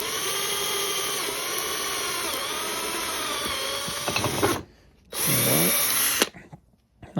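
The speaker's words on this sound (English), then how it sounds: "So you just find the centre of your drill bit, your lid, sorry, and just drill as so." Electric drill bores through a bottle lid, a close, loud whining grind that holds steady for several seconds, then stops, restarts briefly in a short burst and cuts off again.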